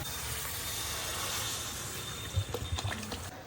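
Water poured into a pot of cooked chicken curry masala, a steady hiss of liquid filling the pan, with a few louder splashy bursts near the end.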